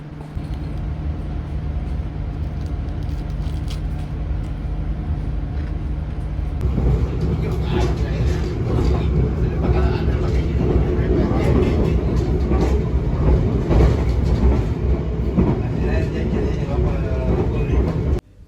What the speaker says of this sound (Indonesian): Ini suasana di dalam kereta kayak gini nih